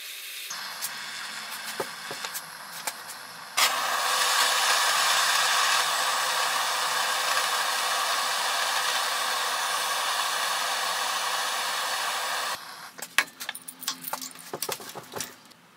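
Metal for a TIG torch stand is heated before bending, giving a strong, steady blowing hiss that runs about nine seconds. Scattered metallic clinks and handling knocks come before and after it.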